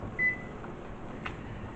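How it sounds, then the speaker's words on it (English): A kitchen timer being set while cooking crispy chicken parmesan gives one short, clear electronic beep near the start, followed by a faint click over a steady background hum. "I got the kitchen timers while we're on here."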